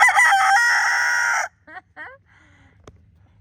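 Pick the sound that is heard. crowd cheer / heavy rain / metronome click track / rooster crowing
rooster crowing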